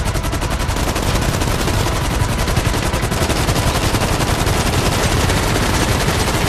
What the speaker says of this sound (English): We're shooting down at the street.